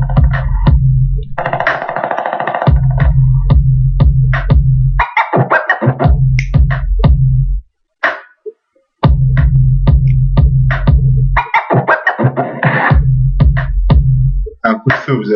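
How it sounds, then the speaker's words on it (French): A rap beat built in Magix Music Maker pounds with loud, repeating bass hits and crisp percussion, including a gunshot sound effect. A short gap of near silence falls midway, then the beat returns. "Un coup de feu, vous avez entendu?"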